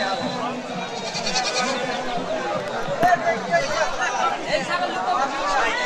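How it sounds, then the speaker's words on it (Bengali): Several native Bangladeshi goats bleat repeatedly at a goat market amid a busy crowd of chattering voices, with people talking close by throughout. "দেখেন কত প্রজাতির ছাগল, শুধু দেশি জাতের ছাগল"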